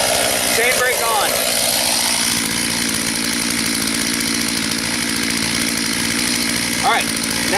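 A Stihl MS 251 C chainsaw runs loudly and close by at a steady high-pitched drone during tree felling, with brief voices breaking in near the start and the end.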